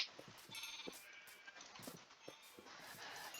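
Faint Minecraft sheep bleat several times at irregular intervals, mixed with soft game sounds and ambient noise and no speech.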